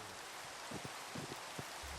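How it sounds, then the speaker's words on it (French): Steady, soft rain hiss falls over a farm in a farming video game, a quiet, even wash of droplets with a few faint low thumps and no voices. "Il pleut."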